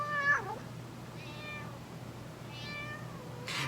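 A cat meows three times, short falling cries spaced about a second apart, fairly close over a quiet background.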